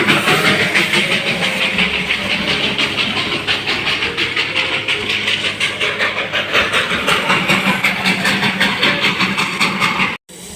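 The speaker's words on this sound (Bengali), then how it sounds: "আমরাও কয়লার ইঞ্জিন চালিত টয় ট্রেন দেখার সুযোগ পেলাম" A coal-fired steam toy train of the Darjeeling Himalayan Railway chugs nearby at Batasia Loop, a loud, steady, rhythmic chuffing and rumble that runs continuously before cutting off suddenly at the end.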